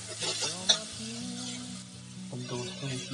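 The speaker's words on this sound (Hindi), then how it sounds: "आप इसको और बढ़िया से चला लीजिए, ये आपको फ्राई हो रहा है।" Potatoes, peas and other green vegetables sizzle and fry in a pan while being stirred, with scraping spoon strokes and a sharp clink near the start over a steady frying hiss; a low background hum runs underneath.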